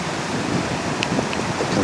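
Fast-running water of Laurel Run Creek coming down off the mountain below a dam, a steady broadband rush heard close and continuous, with no voices.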